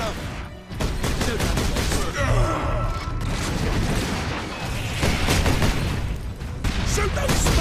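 Heavy, continuous gunfire and booming blasts from Space Marines in the video game Warhammer 40,000: Space Marine, a dense loud battle din running throughout, with a voice shouting briefly over it.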